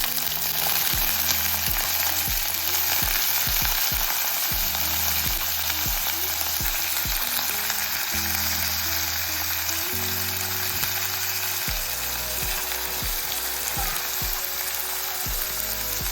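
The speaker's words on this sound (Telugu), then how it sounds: "పోపు వేగింది మనం ఇప్పుడు పచ్చిసెనపప్పు దీంట్లో వేసుకోవాలి" Soaked chana dal fries in oil tempered with spices, producing a loud, continuous close-up sizzle with a low rhythmic hum beneath it throughout.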